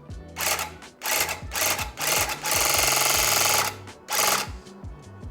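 A rug tufting gun punching yarn into backing cloth, loud close mechanical buzzing in repeated bursts, with one longer steady run in the middle and short pauses between.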